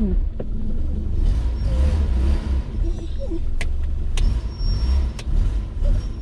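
A Toyota KE70 engine rumbles steadily at low pitch while driving, with occasional clicks and creaks from inside the cabin and a brief voice now and then.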